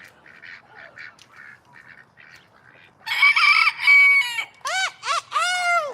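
A person imitates a rooster crowing, a few loud, drawn-out cock-a-doodle-doo calls with rising and falling pitch, following a stretch of quieter murmuring sounds.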